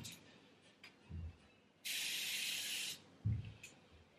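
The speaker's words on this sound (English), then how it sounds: "So on top, I just spray it on." A single fine-mist spray of saline piercing aftercare solution makes a short, airy hiss of about one second, up close, between soft handling rustles.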